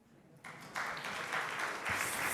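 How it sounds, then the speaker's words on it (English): Applause from a conference audience after a presentation remark, starting thin and swelling as more hands join, a steady broadband clatter lasting a couple of seconds with no voices over it. "that deserves a bit of applause"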